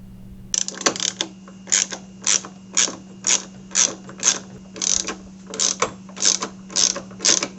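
Rapid ratchet clicks in a steady series of short bursts as a wrench backs out 10mm bolts on the liftgate of a 2007 Toyota Highlander Hybrid, close and distinct over a low steady hum.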